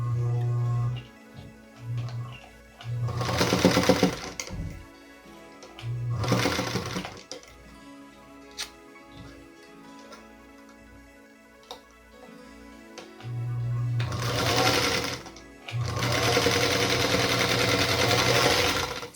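A sewing machine stitches quilt fabric along a marked line on a 2.5 by 4.5 inch strip, running in several short bursts with quiet pauses between, close and fairly loud.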